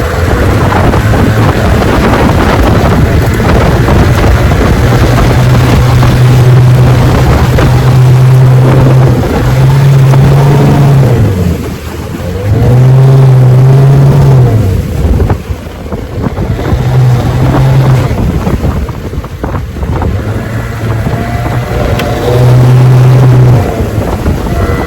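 A Johnson outboard motor with a misfire drives a boat along, its loud engine drone wavering and surging unevenly under heavy wind buffeting and splashing water throughout.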